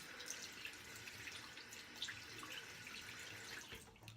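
Water from a tap runs and splashes at a sink as a face is wetted again during a shave, a soft continuous running and splashing with small drips, faint and close, no talking.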